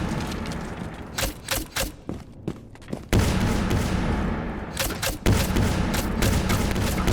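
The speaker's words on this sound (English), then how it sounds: "Just unlimited Zofia concussions." Zofia concussion grenades in Rainbow Six Siege go off in quick succession, sharp cracks and booms followed by a dense wash of sustained, ringing noise.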